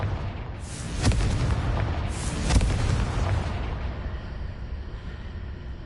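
Deep booming blasts from the Confringo explosion spell in a wizard video game, two heavy impacts with rumbling tails fading into a dull roar.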